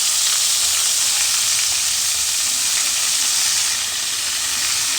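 Tomato, garlic and chilies hit hot oil in a pan for a spicy Gujarati mung bean curry made with buttermilk, giving a loud, steady, close sizzle that runs without a break and without voices.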